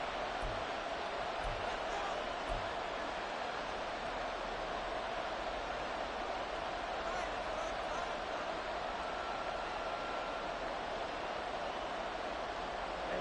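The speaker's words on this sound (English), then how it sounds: "This crowd turning up the decibel level." A dense, steady roar from a football stadium crowd during a Lions game, loud and continuous without clear peaks, with no distinct voices standing out.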